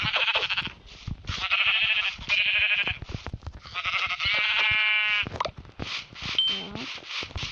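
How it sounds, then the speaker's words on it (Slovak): Sheep bleating in Minecraft, a run of repeated wavering bleats close and clear, coming in several bursts with short gaps between them. "Kde je tá ovca? Je tu."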